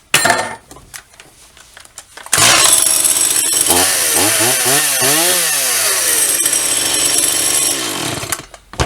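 A STIHL MS 180 chainsaw fitted with a new fuel filter after a choking fault is pulled and started, then revs up and down loudly close by for several seconds before cutting out, with some handling noises before it starts.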